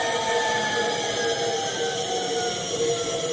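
A motor on a G540 dual-relay control setup runs steadily at low RPM, giving a continuous, fairly loud hum with a whining tonal layer and no talking.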